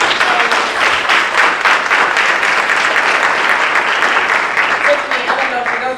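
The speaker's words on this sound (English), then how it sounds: "Let's give them a round of applause." A business event audience applauds two speakers with loud, sustained clapping from many hands that fills the room steadily, then tapers slightly at the end.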